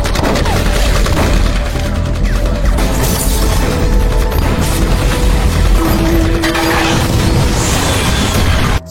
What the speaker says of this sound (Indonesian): Seketika dapur langsung meledak